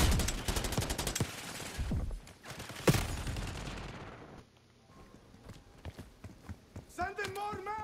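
Heavy gunfire in Call of Duty Black Ops 6: dense, rapid bursts of shots and impacts fill the first few seconds, then thin to scattered faint reports under occasional voices.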